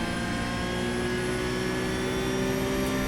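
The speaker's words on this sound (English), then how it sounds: "now we are full throttle for the rest of it" A Porsche 911 GT3 Cup 992.1 race car engine holds full throttle in the iRacing sim at Virginia International Raceway, a steady, loud, high-revving drone with a constant pitch and no talking.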